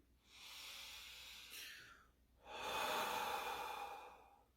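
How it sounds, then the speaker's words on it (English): Deep breathing during meditation: two long, audible breaths, a drawn-out airy inhale followed by a stronger, hissing exhale, close and alone. "Breathe deeply."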